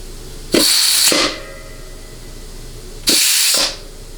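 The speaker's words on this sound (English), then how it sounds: "we may get a little bit of hissing coming out of the back of the nozzle" Compressed air hisses sharply from a nozzle in two loud bursts of about half a second each, separated by a pause, while air-checking a 700R4 or 4L60E automatic transmission's low-reverse circuit.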